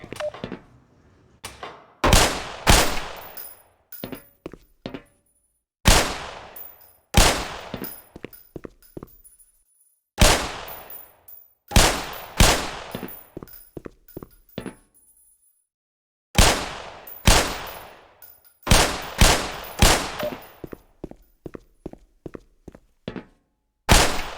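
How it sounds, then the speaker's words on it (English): Handgun shots at shooting-range targets in the game Black Mesa. Loud, close shots come in spaced groups of rapid single rounds, each with a ringing metallic tail, and the pauses between groups are silent. "Put 7 rounds in the center ring of each target."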